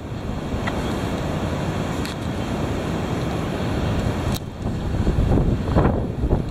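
Heavy wind blowing steadily and loudly throughout, a dense broadband roar with gusts rising near the end, buffeting the microphone with no voices present.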